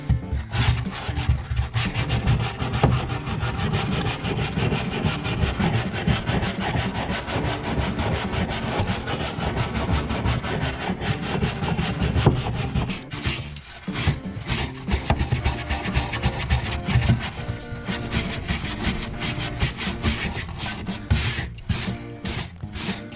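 Steady abrasive scraping and rasping as surface rust is rubbed down on the underbody of a Triumph TR7, continuous and close throughout, loud and dense with a brief dip midway before the rubbing resumes.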